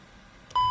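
A steady electronic warning tone sounds during the engine fire test in an Aerosoft A321 in FSX, starting abruptly partway through and holding loud and unbroken to the end after a quiet lead-in.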